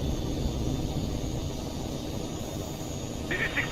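Steady roar of jet fighter engines in the flight combat game Tom Clancy's HAWX 2, a continuous broad rumble with a brief higher tone near the end and no talk over it.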